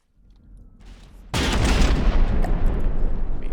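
A mortar salvo fires in a video game: after a quiet low rumble, a sudden loud, dense burst of booming shots erupts and keeps roaring for the rest of the moment.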